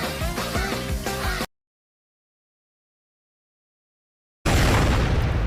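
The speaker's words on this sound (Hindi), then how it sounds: "एक और विस्फोट।" Loud anime music cuts to silence, then a dense, roaring anime explosion rumbles in at full volume.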